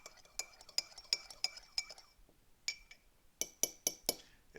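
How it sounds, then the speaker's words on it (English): A metal spoon stirs cream into a cup of Jacked O'Lantern coffee, with a quick run of bright clinks against the cup, a short pause, then a second burst of sharp taps, close and alone. "Get our spoon out, mix it up."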